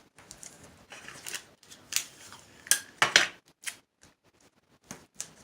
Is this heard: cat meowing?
no